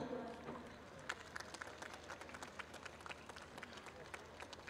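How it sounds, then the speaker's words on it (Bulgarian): Crowd applause at the opening ceremony of an international masquerade games festival, greeting a group from Montenegro: scattered, moderately distant clapping that persists steadily, mixed with crowd noise. "И аплодисменти за нашите приятели от Черна гора."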